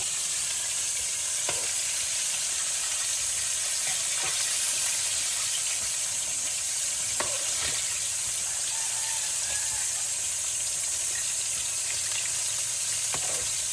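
Chicken frying in canola oil over a wood fire, a steady, close hiss and sizzle that holds throughout with a few faint clicks and pops.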